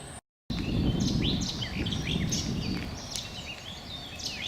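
A summer visitor warbler sings in the background on a nature trail at an estate, a series of brief, thin chirping phrases repeated at a distance over a steady outdoor ambience.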